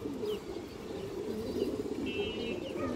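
Giribaz high-flyer pigeons cooing in a loft where a female bird is on show, low steady coos running continuously over a soft background with faint chirps and no talk.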